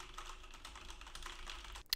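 Rapid clatter of a mechanical keyboard fitted with MX Red switches, picked up by a Blue Yeti USB microphone, with steady overlapping keystrokes and a sharper final key hit, close and moderately quiet.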